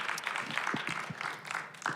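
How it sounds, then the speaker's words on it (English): An audience at a book-launch event honouring a musician claps in a sparse, uneven round of applause, with individual hand claps standing out against a soft crowd backdrop, moderately quiet and fairly close. "Please give them a round of applause."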